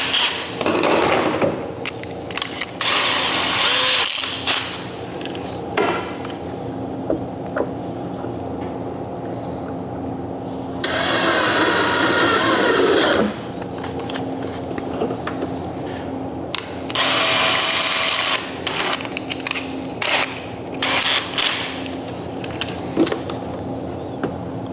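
A power tool drives screws to fasten a motor mount onto a Native Watercraft kayak for a Newport Vessels NK300 electric motor, with several sustained bursts of whirring over steady background noise and no talk.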